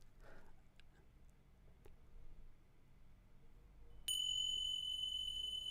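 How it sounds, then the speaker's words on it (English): Bright, sustained bell-like tones ring out suddenly and hold steadily, loud and clear after a stretch of faint background noise. "So these chimes, very, very nice."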